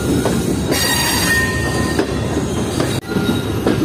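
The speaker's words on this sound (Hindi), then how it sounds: "पीछे ट्रेन आहिस्ता आहिस्ता ट्रैक से सड़के प्लेटफॉर्म 1 की लाइन से डाउन लाइन पर आ रही है" Tezgam train rolling slowly along the track from the platform 1 line onto the down line, a steady close rumble of wheels and carriages with thin squeals rising above it and a brief dip near the end.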